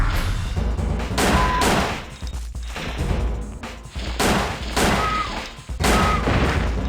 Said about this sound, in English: those two shots missed completely